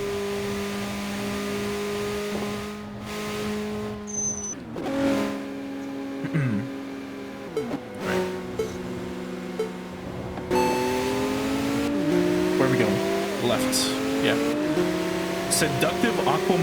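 Street race in Tokyo Xtreme Racer, with loud engines revving up through repeated gear shifts, rising and falling pitch, and brief tire squeals, while someone talks over it.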